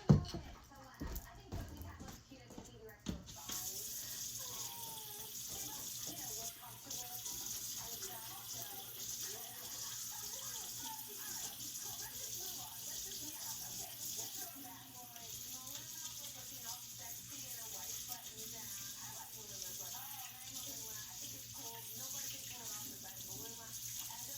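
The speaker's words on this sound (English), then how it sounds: "Let me wash my hands real fast." Water running steadily from a tap while someone washes their hands. After a few brief knocks, a soft, constant faint rush continues to the end.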